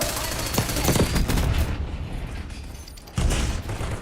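Gunfire in the shooter Black Ops 6, dense rapid bursts and booming shots crowding a loud game soundscape, with a fresh heavy burst near the end.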